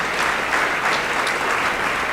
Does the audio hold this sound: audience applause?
yes